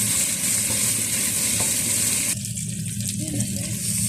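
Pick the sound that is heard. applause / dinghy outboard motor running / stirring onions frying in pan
stirring onions frying in pan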